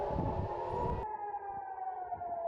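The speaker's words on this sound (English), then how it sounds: "Sirens were heard in multiple areas of Israel, including Tel Aviv and Jerusalem, following the launch" Civil defense air raid siren sounding in Israel after a missile launch from Yemen, a steady wailing tone that starts loud and broad, then thins after about a second into a sustained high, slightly falling wail.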